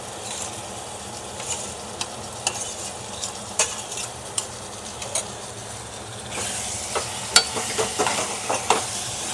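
Prawns for a prawn pulao sautéing with spices in a pan, a low sizzle under regular clicking and scraping stirs that grow louder and busier toward the end, close by and without speech.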